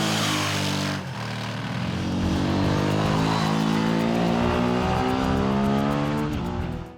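A Ducati motorcycle engine revs hard and close, its harmonic roar climbing and holding through repeated throttle blips, loud and alone with no talk.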